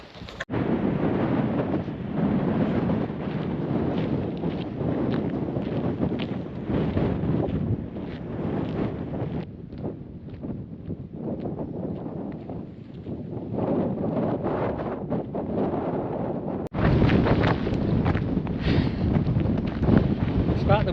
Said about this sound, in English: It's still blowy, as you can probably tell.